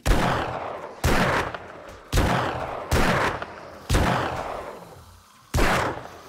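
Magnum revolver fired rapidly in 7 Days to Die, six heavy booming shots at a steady pace of roughly one per second, each ringing out into a short reverberant tail.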